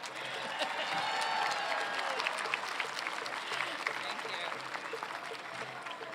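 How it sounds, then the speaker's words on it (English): Steady, dense applause from a conference audience, broad and continuous for several seconds with some voices and cheering mixed into the clapping. "let's give a nice round of applause"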